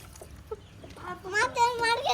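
A hen clucks in a rising, wavering call close by, with a few soft clucks before it and faint background noise, on a rooftop.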